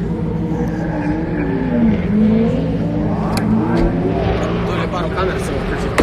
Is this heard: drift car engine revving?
yes